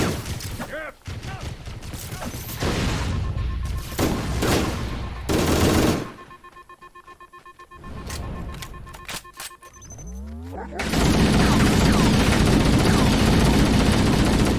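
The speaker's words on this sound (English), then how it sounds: "they could see every aspect of this mini base and start shooting down at the remaining enemies" Gunfire from shooting down at enemies at a small base in Halo: Combat Evolved, bursts of rapid shots and explosions broken by a quieter stretch, then a sustained dense barrage near the end.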